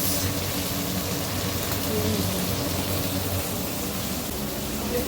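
Pomfret fish frying in a pan, a continuous close broadband sizzle holding steady at an even level for the whole stretch.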